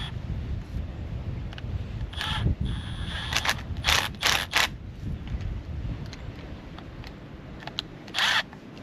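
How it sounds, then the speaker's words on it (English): Ratcheting and metallic mechanism clicks while hose clamps are tightened back onto a garden water pipe, short bursts of clicking separated by pauses, close up with no talk. "put your hose clamps back on."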